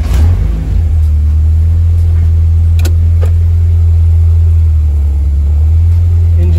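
Low, loud engine drone of a car fitted with a VVL engine during a street pull, heard from inside the cabin, a steady heavy rumble with a few brief clicks and no talk.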